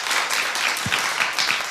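A studio audience claps in a loose, scattered patter of applause, moderate in level and fairly close, with a faint voice briefly underneath.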